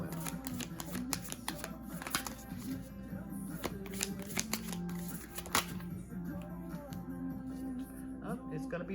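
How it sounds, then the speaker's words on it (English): Oracle cards are shuffled by hand in rapid, irregular riffling clicks and slaps, close and quiet, with a voice talking faintly under the shuffling. "These cards don't like to shuffle well."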